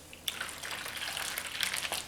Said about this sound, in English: and I just dump my water